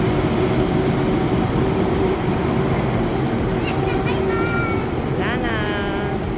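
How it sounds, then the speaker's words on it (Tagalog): A bullet train passes in Taipei, Taiwan, as a loud, continuous roar and rumble close by, with high wheel squeals toward the end and voices, including children's, under the noise. "yan ang bullet train dito sa may Taipei"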